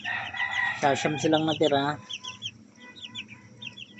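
A hen and her chicks cluck and peep up close, a burst of loud clucking followed by scattered soft chick peeps, with a person speaking briefly over them.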